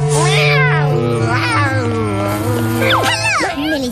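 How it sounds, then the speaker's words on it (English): A cartoon cat meows and yowls repeatedly in loud, wavering cries, close up and alone over a sustained background tone. "Hello, Minnie's ugly cat!"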